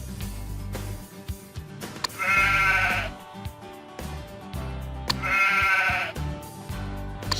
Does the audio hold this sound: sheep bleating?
yes